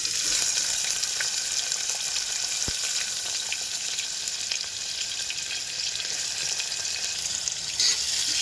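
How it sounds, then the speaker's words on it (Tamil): Onions fry in a pan for Madurai kari dosa, making a constant broad sizzling hiss that stays level throughout, with occasional faint stirring clicks and no voices. "நல்லா வதக்கி விட்டுக்கலாங்க"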